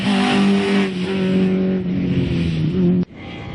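A Vauxhall Chevette rally car drives a hairpin-laden stage at the Dixies Challenge, its engine revving hard and close with steady high-pitched tone, easing briefly, then cutting off abruptly near the end.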